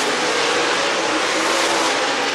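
Dirt race cars run hot laps at Talladega Short Track, a dense, loud roar of several engines revving and droning together, steady throughout with a slight swell near the end.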